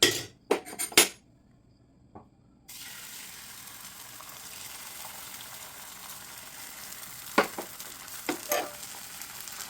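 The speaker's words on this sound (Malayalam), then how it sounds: "നമ്മൾ ഇത് മുട്ട ഒഴിച്ച് കൊടുക്കുവാണ്." Egg poured into a hot, buttered pan for an omelette burger: a few clinks up front, a brief quiet, then a steady close sizzle that carries on, broken by a couple of louder spatters.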